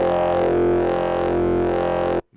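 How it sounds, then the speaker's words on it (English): An Arturia MiniBrute SE analog monosynth played through a Valco KGB fuzz pedal holds a thick, buzzing, harmonically rich sustained tone with slow pulsing filter swells, then cuts off abruptly. "We have this Arturia Mini Brute SE."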